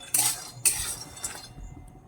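Peanuts being roasted in a pan give two sharp metallic clinks of a utensil against the pan, then fainter scraping as the stirring goes on, close and quiet.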